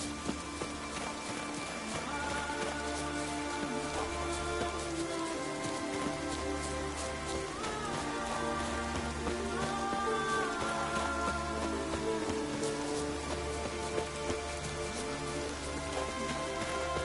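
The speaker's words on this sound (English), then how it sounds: "Looks like rain." Rain falls steadily in The Witcher 3 video game, a continuous hiss of drops on surfaces beneath a layer of game music, with no voices.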